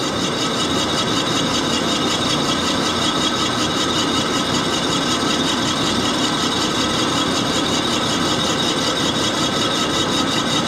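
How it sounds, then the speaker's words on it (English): An Axelson lathe bores a Harley-Davidson cylinder at low range, producing a steady, loud mechanical whine and grinding hum of the cutting tool that stays constant with no pauses and no speech. "that's the last cut I'll make on the lathe"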